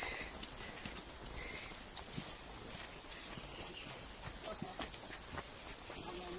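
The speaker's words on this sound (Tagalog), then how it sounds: "So dito nga lang sobrang tahimik at saka sobrang lakas ng kuliglig." Crickets in a quiet mountain forest keep up a loud, continuous high-pitched shrill chorus that dominates throughout, with faint scattered rustles and soft movement beneath it and no talking.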